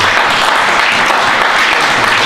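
A church congregation applauding in praise, dense, loud clapping that carries on evenly through a short stretch.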